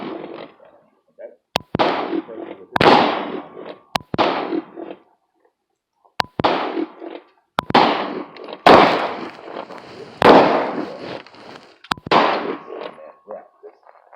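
Gunshots ring out at shooting practice, a string of sharp, loud reports fired singly and in quick pairs with short pauses between, over faint talk in the background.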